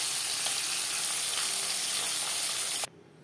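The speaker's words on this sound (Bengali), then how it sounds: "পরের মাছ একইভাবে ভেজে নেব।" Pabda fish sizzles loudly and steadily in hot oil in a pan, a dense continuous frying hiss that cuts off abruptly near the end.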